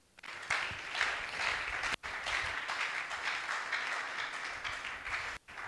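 A church congregation bursts into sustained applause, dense and fairly loud, with two brief pauses in the clapping.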